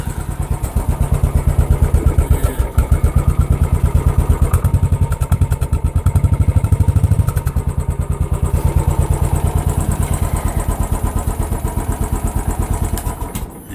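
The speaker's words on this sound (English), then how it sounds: "You'll see there that I started it with the electronic start there" A Royal Enfield Classic 500 motorcycle fires up on its electric starter and settles into a loud, close, steady single-cylinder idle, a rapid rhythmic thumping that holds evenly to the end.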